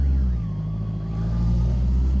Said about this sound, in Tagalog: Tumunog yung kotse